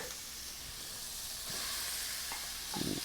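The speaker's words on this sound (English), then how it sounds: "What I do now is toss in the onions and the pork." Onions and pork hit a hot pan for a Thai sweet potato and pork curry, giving a loud, steady sizzle and hiss that swells slightly, with a few stirring scrapes near the end and no talk.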